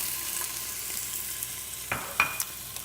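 Onions and peppers sauté in oil in a pan on a stovetop, a quiet, even hiss of frying with a few brief clinks and scrapes of a utensil near the end, close and with no talking.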